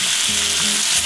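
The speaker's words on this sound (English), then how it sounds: "let's see if I get a sizzling sound" Food hits a hot pan with a loud, close, continuous sizzle that lasts the whole short moment, heard alone without any voices.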